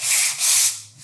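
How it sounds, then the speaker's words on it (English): Sandpaper rubbing across a painted wood sign with a faux metal finish, two or three loud, close, hissing back-and-forth strokes with no talk. "I'm going to sand it all."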